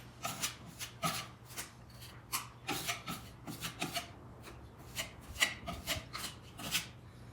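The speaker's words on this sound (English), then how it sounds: "I would highly suggest getting a flexible putty knife so that way when it bends, it pushes the wood filler in the seams" A flexible putty knife scrapes and presses wood filler into the seams and patched edges of an old wooden nightstand, a close, quiet series of short rasping strokes in an uneven rhythm.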